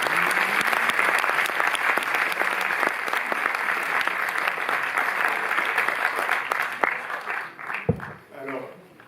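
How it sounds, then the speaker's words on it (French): A cinema audience in Paris applauds at the opening of a film retrospective with loud, dense, sustained clapping that fades near the end, where a voice speaks. "Vous pouvez applaudir Gaël Técher et Bernard Eisenschitz."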